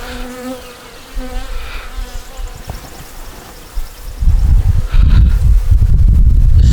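A big honey bee swarm hums and buzzes around a hive, a dense layered drone that grows louder and closer partway through, with wind buffeting the microphone.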